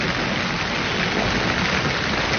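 Steady, heavy rain hisses down at a campsite, a dense continuous wash of drops, loud and close with no voices.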